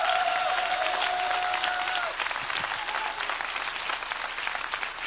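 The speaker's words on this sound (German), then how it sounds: "denen wir jetzt mal einen richtig fetten Applaus geben können" Church congregation applauding loudly and steadily in a large hall, a dense continuous wash of many hands that holds throughout, with a brief tonal sound early on.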